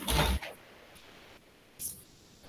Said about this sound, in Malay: Tutup pintu ya.